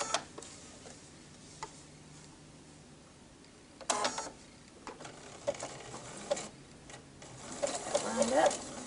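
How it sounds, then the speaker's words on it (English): A sewing machine stitching lace window fabric, soft rapid mechanical ticking that speeds up and grows louder toward the end, with a few sharp clicks. "Okay, I'm going to needle down. Of course, we have needle down position on this machine"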